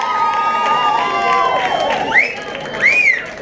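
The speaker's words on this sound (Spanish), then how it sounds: "Por favor, un aplauso para ellos" A concert crowd at a live band show cheers and claps, with whistles and shouts rising over a steady wash of applause, loud and close throughout.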